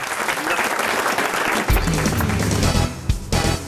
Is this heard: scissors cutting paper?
no